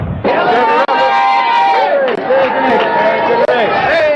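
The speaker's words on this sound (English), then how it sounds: "More cheers." A Kentucky Derby crowd cheers loudly and steadily, a dense roar of many voices close around, with shouts rising and falling.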